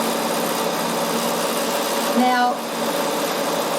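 A Bernina sewing machine stitches a seam on a lined, hooded zip-up jacket, a steady mechanical whir running throughout with a brief pitch rise near the end, while someone speaks briefly over it.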